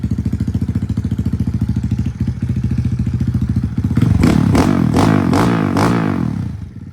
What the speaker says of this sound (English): That's the Bills pipe on the Klx110L, sounding so good.